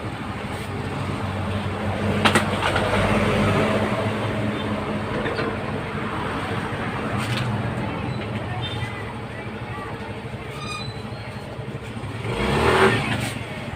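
Yamaha Mio i 125 scooter engine hums steadily on a road test, with a swell of revving near the end and someone speaking over it.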